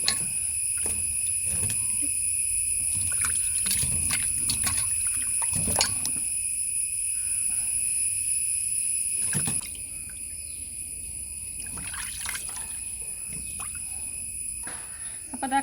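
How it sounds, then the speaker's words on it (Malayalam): Hands dipped into a bowl of lukewarm water, faint intermittent sloshing and trickling under a steady high cricket-like hum, with occasional light splashes over about fifteen seconds. "ഇനി നമുക്ക് നമ്മളെ കൈ ഇതിൽ മുക്കി വെച്ച് കൊടുക്കാം കുറച്ച് സമയം"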